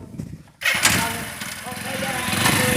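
A motorcycle engine fires up abruptly after a brief lull, then keeps running loud and rough at a steady idle while voices mingle in the background.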